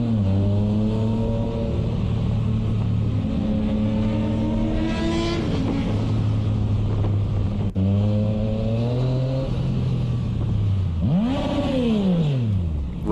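Car or motorbike engine revs repeatedly on a wide semi-rural road, a loud, close, steady drone that climbs in pitch several times and ends with one sharp rising-then-falling rev.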